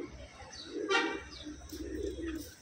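A black female pigeon coos in soft, low, throaty bursts, close by and fairly quiet, with a brief brighter chirp near the start and faint background murmur.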